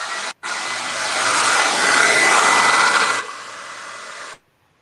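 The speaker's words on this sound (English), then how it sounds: "excuse the sound of the hair dryer" A hair dryer blows steadily on a wet layer of a mixed-media painting, a loud close whooshing roar that cuts out briefly, surges, then drops to a lower setting before switching off.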